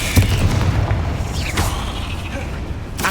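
Deep, rumbling booms of the Confringo fire spell exploding in the game Hogwarts Legacy, loud and close, with mechanical clanks and sharp bursts near the start, midway and at the end over a steady low roar.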